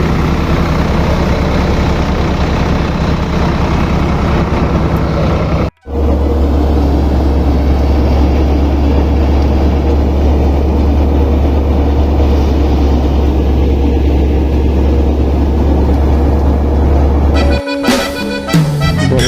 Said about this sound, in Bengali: আর এইটা 4x4 একটা ট্রাক্টর।